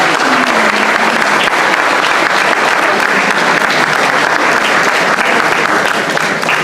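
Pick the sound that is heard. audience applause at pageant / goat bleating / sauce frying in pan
audience applause at pageant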